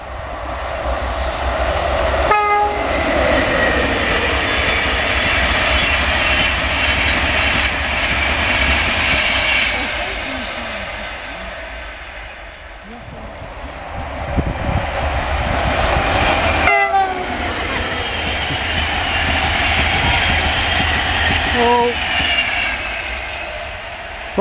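A passing train rumbles loudly near the Marholm and Werrington line, with short horn toots partway through and again later. The engine noise swells and fades with no talking.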